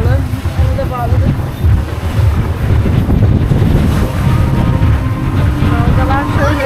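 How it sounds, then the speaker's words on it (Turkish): Sea waves slap around a small boat off a Greek island, with heavy wind rumbling across the microphone, loud and constant, and voices talking faintly beneath the roar. "Dalgalar şöyle."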